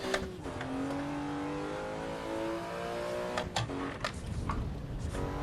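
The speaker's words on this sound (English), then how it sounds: "This car would be really a good drift car if it had a bit more power" Car engine in the racing game Assetto Corsa EVO during a drift-style run: a sustained engine drone with shifting pitch as revs rise and fall, and sharp tire or gear transients near the end.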